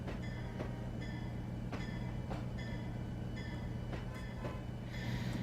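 A freight train in Trainz 12 pushes cars along a spur: steady low rumble with regular clicks and metallic squeals from the wheels repeating every half second or so, fairly close and continuous with no talk.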